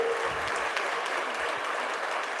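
A dense crowd claps steadily and loudly throughout at a Warkari saints' honouring ceremony in Alandi, with no speech over it.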